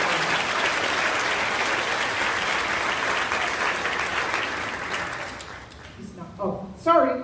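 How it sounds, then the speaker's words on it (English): Audience applause at a school awards ceremony for third and fourth graders, a steady dense clapping from a crowd that fades after about five seconds, followed by scattered voices and a few whoops. "Give him a great big round of applause."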